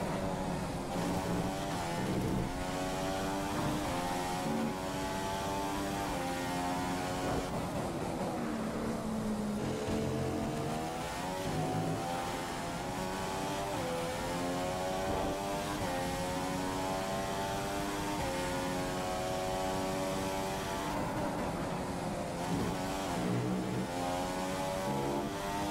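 Formula 1 car engine in the racing game F1 2015 during a lap, a loud high-pitched scream rising and falling continuously through upshifts and braking for corners, heard alone.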